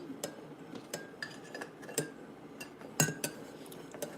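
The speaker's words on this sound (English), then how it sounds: "Dash of cinnamon, let's stir that in." A spoon stirs cinnamon into a cup of coffee, giving a series of light metallic clinks and taps against the cup, quiet and irregular, with a sharper chime near the middle.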